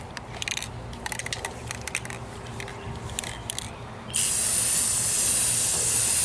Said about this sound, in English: I'm going to use this rattle can right here.